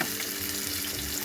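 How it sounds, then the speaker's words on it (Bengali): Chopped onion fries in soybean oil in a pan, giving a steady, soft, continuous sizzle with no voices. "এগুলো একটু ভেজে নিচ্ছি।"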